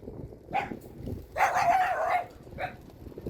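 A small dog lets out a short bark, then a longer strained yelp and a final brief bark, heard fairly close outdoors during a bicycle tour with faint background noise.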